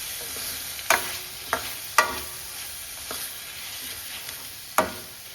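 Cauliflower curry with tomatoes being stirred in a pan: a constant frying hiss broken by a handful of sharp spatula scrapes and knocks at irregular intervals, close up, with no talking.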